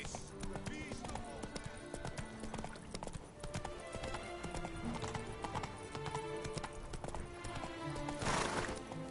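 Roach, the horse in The Witcher 3, gallops with a steady, fast clip-clop of hooves that runs throughout under game music and a man's speech, ending with a brief whinny.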